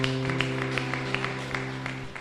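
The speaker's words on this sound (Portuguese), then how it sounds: "Aplaude o Rei Jesus." A church congregation claps along in a rhythmic, even beat during a Portuguese-language sermon, with steady crowd applause over a low sustained organ or keyboard chord.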